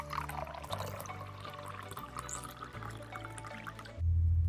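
Water poured into glass vessels of a homemade propagation station, filling each about 90% full; a steady close pour and trickle with faint clinks, ending in a louder low gush.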